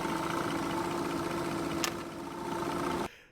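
A big Audi 6.0-liter W12 engine idles smoothly and steadily with a constant low hum and no voices, holding an even level before cutting off sharply near the end.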